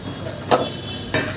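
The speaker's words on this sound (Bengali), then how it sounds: "আর একটু আমি কষিয়ে নেব মশলা" Spice paste frying in a pan, a steady sizzle punctuated by two quick scraping stirs of a spoon.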